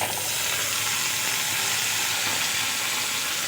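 Taro and potato chunks fry with onions in a pan, giving a steady, loud, even sizzle that holds without a break for the whole stretch, with no voices.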